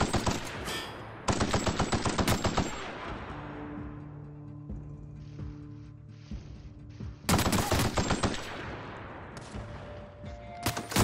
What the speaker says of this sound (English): Ooh, assault rifle.